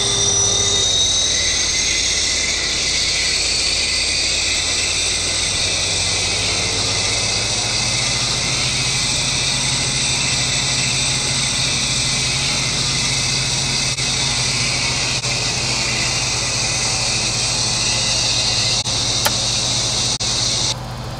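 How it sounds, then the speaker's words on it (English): A Jetstream 41 turboprop engine spools up during start in a flight simulator, a steady loud whine and hum that rises gradually in pitch and holds, continuous and close. "Starter engaged, engine 1. Start valve open, engine 1."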